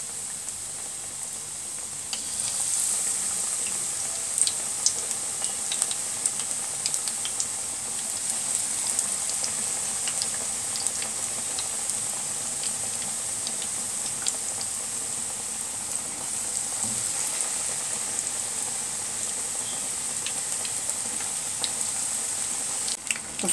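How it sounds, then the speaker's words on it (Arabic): Battered cauliflower frying in hot oil, a steady bright sizzle with scattered crackles and pops that keeps up evenly and close throughout, with no talking. "تعالوا بقى نقلي الخليط كده، وفي الزيت على طول بتنزليه."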